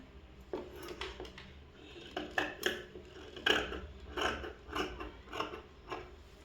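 Scissors snip through uniform cloth in a series of short, sharp crunching cuts, about ten quick bursts spaced irregularly, close and fairly quiet with no talking.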